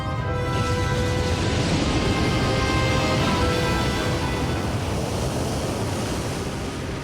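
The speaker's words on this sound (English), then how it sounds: "The waves cross the Atlantic at over 500 kilometers an hour, heading for Africa and Europe." Massive ocean waves from an 8-mile comet impact surge across the Atlantic as a sound effect: a loud, continuous broadband roar of surf and wind, steady throughout with a faint tonal layer beneath.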